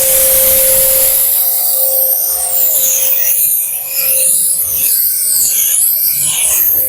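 A continuous loud hissing spray as a foam sprayer coats a Suzuki Ertiga during a home car wash, with a steady tone underneath and swirling, shifting texture throughout.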